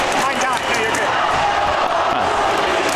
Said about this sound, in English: now you hear the Long Beach crowd